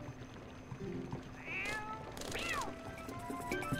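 Cat in The Legend of Zelda: Twilight Princess, two distinct meows over quiet ambient game music, the second louder and longer, in a peaceful village setting.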